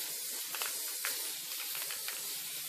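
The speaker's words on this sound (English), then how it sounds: "I'm going to use an adhesive spray. And I'm just going to spray it real good" A can of adhesive spray hisses continuously for a few seconds, close and fairly soft, with slight variations in pressure.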